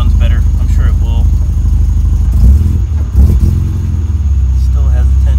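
Nissan 240SX S14 engine fired up right after a fuel filter, spark plug and O2 sensor change, cranking and then settling into a loud, close, uneven running rumble with a brief revving surge midway.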